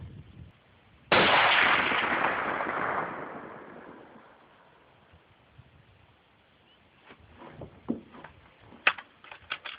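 A custom Mosin Nagant bolt-action rifle fires one shot outdoors at a 100-yard target. A sharp, loud report is followed by a long rolling echo that fades over several seconds, and faint thumps and rustles follow.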